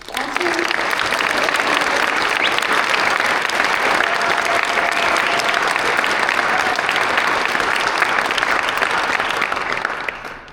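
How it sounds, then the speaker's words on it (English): A dense, loud round of applause from a high school tribute-night audience for the mentors, sustained evenly for about ten seconds before tapering off at the end. "Let's give a round of applause to the mentors one more time."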